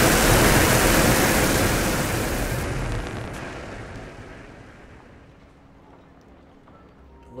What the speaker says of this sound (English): have liftoff. Liftoff looks good. Rocket is going perfect.